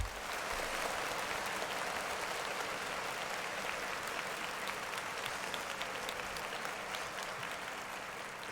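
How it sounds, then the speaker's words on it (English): Sustained applause from a crowd cheering Grammy nominees, a dense, even wash of clapping that holds steady throughout at moderate distance. "Clap it up for them."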